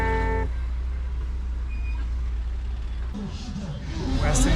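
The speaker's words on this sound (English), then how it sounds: "We're still in the center of Benin right now on the traffic, heavy traffic." Heavy road traffic in the center of Benin rumbles close by as a steady engine drone with a brief tonal toot at the start, then growing street noise and faint voices toward the end.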